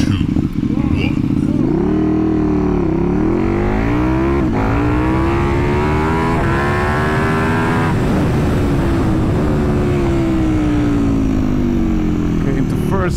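A 2022 KTM 1290 Super Duke R EVO motorcycle accelerating hard from 0 to 200 km/h on a cold day: a loud, close engine roar climbing in pitch through repeated gear changes, with each shift briefly dropping the tone before it rises again.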